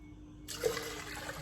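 Boiling water is poured onto washed Egyptian rice in a pot for Turkish rice pudding, a sudden close splashing gush that starts abruptly and keeps pouring steadily.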